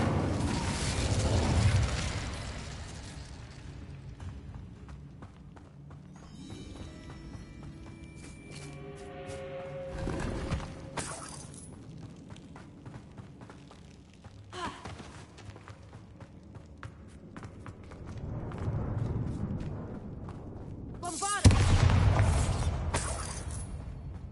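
Spell blasts from Bombarda and Incendio in Hogwarts Legacy, bursting in a few loud broadband hits with a crackling tail, spread across a stretch of quieter game ambience and movement.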